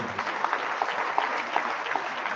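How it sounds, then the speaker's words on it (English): An audience of students at a youth summit applauds, a full, steady clatter of many hands with scattered sharper individual claps standing out, sustained for the whole stretch. "A round of applause for them."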